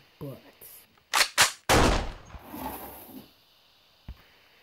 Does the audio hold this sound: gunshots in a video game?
yes